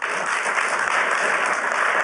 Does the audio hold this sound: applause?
yes